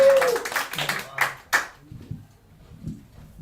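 An audience at a comedy club claps to welcome a comedian to the stage, a brief burst of close hand claps in the first second and a half that fades into quiet room noise.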